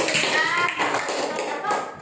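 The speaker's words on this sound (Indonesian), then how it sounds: "Oke, tepuk tangan buat kelompok 2" Classroom of students clapping for a group during a lesson, a brief burst of fairly close, uneven clapping with children's voices underneath.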